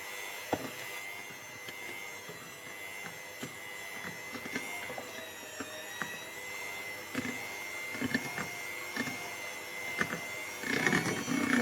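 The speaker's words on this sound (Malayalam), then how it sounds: "ഒരു ലോ സ്പീഡിലിട്ടിട്ട് പതിനഞ്ച് സെക്കൻഡ് ഒന്ന് മിക്സ് ചെയ്താൽ നമ്മുടെ ബാറ്റർ റെഡി ആയിക്കോളൂ" An electric mixer runs at low speed through chocolate cake batter with a steady whirring motor hum and a high whine, broken by regular soft knocks of the beaters against the bowl, and it grows louder and rougher at the very end.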